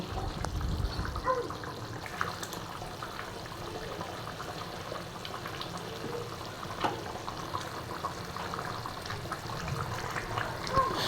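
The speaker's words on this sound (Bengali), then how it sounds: "তো এইতে বলক চলে আসছে।" Duck curry bubbling in a pot on the stove, with a steady, soft simmering and gurgling texture that runs throughout with no talk.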